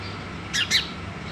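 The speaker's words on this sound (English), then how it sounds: "try to meet the singing instincts of the little bird" Two quick, bright chirps from a small bird ring out back to back in the morning air, fairly close, over a low steady background hum.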